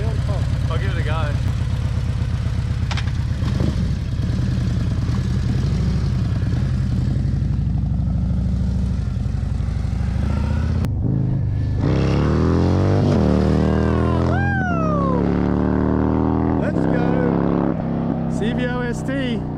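A 2024 Harley-Davidson CVO Road Glide ST rolls in first gear, then throttles hard with a loud, deep V-twin roar that rises steeply in pitch through several pulls. Wind buffets the recording, and a voice comes in partway through.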